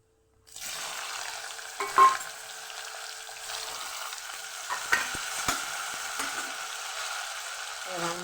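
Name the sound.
vegetables frying with cumin, mustard seeds and asafoetida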